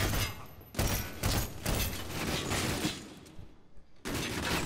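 Rapid bursts of gunfire crackle in loud, dense volleys separated by brief pauses, with a final burst after a short gap, in the video game Medal of Honor: Warfighter.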